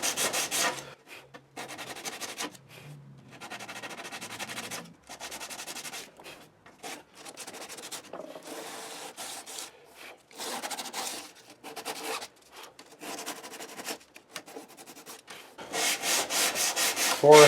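Wood of a ten-string classical guitar being sanded by hand with 180-grit sandpaper: close, soft rasping strokes in uneven bursts separated by short pauses, with no voices.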